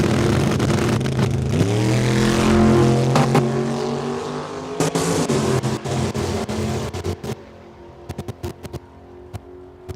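A 1966 Chevelle and a Mustang launch side by side on a drag strip at Saskatchewan International Raceway, engines roaring loudly and rising in pitch as they pull away, then fading into distant rumble and crackle.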